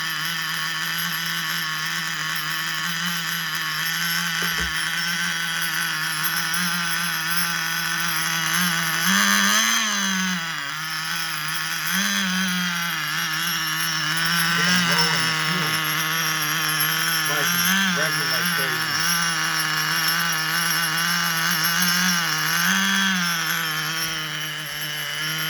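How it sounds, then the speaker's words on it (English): A nitro RC engine idles roughly and loudly for a long stretch, its buzzing drone wavering and surging in pitch several times, with no talking. "Craziest idle I ever heard."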